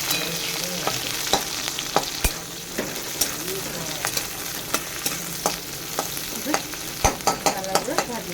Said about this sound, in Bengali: পেঁয়াজ কুচিগুলো দিয়ে দিলাম দিয়ে লাল লাল করে একটু ভেজে নেবো